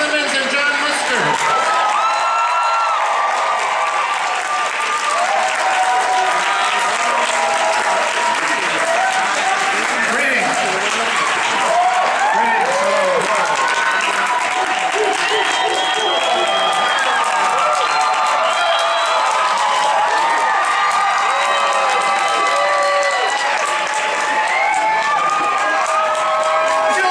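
A packed theatre audience at the El Capitan Theatre bursts into loud, sustained applause and cheering with whoops and shouts, a dense unbroken roar of clapping that holds steady throughout.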